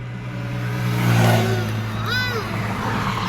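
A tractor engine drones past close by, rumbling louder then easing off, with a brief voice heard over it.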